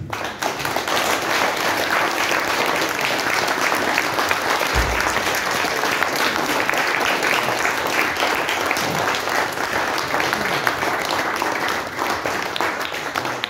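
A crowd at a farmers' New Year reception applauds steadily and loudly for over ten seconds, a thick, even wash of many hands clapping together without a pause, close and full.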